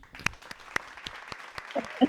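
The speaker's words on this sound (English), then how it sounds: "Wow, round of applause." Applause on a podcast for guest Ian Westermann, a tennis coach from the Milwaukee area: a short burst of clapping, sharp and close, with a few distinct claps standing out and a brief voice near the end.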